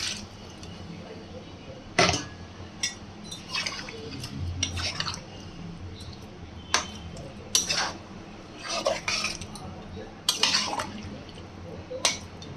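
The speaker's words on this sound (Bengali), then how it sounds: "আমি জল দিয়ে দেবো" Water goes into a pot of desi chicken curry with a few wet splashes, and a spoon stirs and clatters against the pot several times in short bursts.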